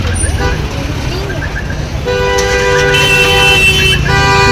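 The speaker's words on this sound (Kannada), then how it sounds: "ಗಾಡಿಯವ್ರು ಹಾರ್ನ ಹಾಕ್ತಿರ್ತಾರೆ" Vehicle horns sound in busy market street traffic in Hubballi. Short toots come first, then a loud, sustained horn blares over the road rumble with a brief break, while voices talk nearby.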